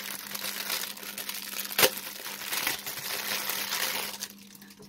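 A foliage-like decorative ribbon or cord is handled, giving a steady close crinkling and rustling with one sharper crackle near the middle and a quieter tail, no talking.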